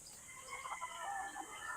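Laying hens in a range area murmur and cluck softly at a distance over steady background noise, a low continuous farmyard chatter.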